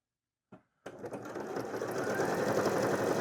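A sewing machine stitching a wide zigzag while making a cat bed starts after a brief tap and then runs as a steady, close, continuous mechanical whir that gradually grows louder.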